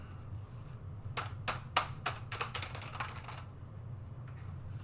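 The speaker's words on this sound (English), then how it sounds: "I'll have to sit there and like hammer a key until it finally types" A burst of hard, uneven keystrokes clatters on a faulty computer keyboard, about a dozen sharp taps bunched in a few seconds over a low steady hum, then it falls quiet.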